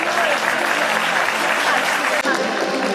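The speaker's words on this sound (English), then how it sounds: "Let the round of applause not stop." Steady, loud applause from an audience at an alumni meet of LTIPS in Pune, dense clapping running throughout with only a brief dip near the end.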